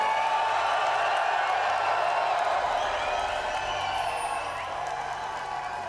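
An audience at a League of Legends event cheers and whoops in a sustained wash of crowd noise that gradually eases off toward the end.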